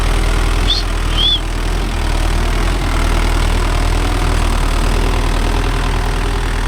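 A Mahindra Yuvo Tech Plus 585 4WD tractor engine drones steadily in a low, even rumble while pulling a new cultivator through a field, loud and continuous with two brief faint chirps above it and no talk.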